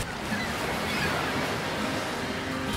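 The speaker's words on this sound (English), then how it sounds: "The waves are coming in." Ocean waves wash continuously onto the beach at Grays Harbor, a dense, steady roar of surf with some wind buffeting the microphone and no talking.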